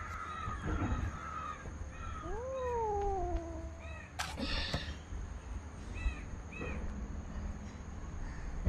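Two orphaned kittens crying and meowing repeatedly from a hidden spot nearby, with shrill rising and falling calls. One clear pair of longer mews stands out, and a sharp knock or thump breaks in midway.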